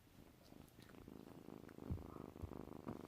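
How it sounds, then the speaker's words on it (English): A cat purring softly and close, a low rumbling rhythm at fairly quiet level with a few small bumps and movement noises, no talking. "He's purring."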